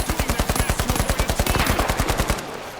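Rapid automatic gunfire from a weapon in the shooter game The Finals: a fast, even burst of roughly twenty close, loud shots lasting over two seconds before stopping abruptly.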